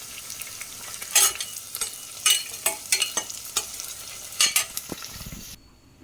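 Onions sautéing in a pan for mutton gravy, a steady sizzle broken by several sharp bursts of stirring and scraping, close and moderately loud with no voices.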